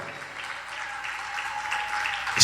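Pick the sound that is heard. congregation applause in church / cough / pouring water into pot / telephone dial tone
congregation applause in church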